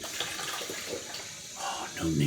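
Cold tap water runs into a sink while a man splashes and washes his face after shaving, with brief splashy bursts near the end and some speech over the water.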